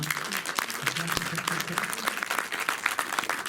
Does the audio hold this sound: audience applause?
yes